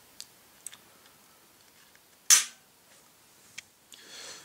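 Glock pistol trigger resetting: small sharp mechanical clicks scattered across the span, close and fairly quiet, with one louder snap near the middle.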